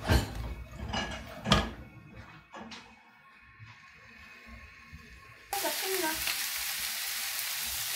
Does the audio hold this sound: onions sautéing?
yes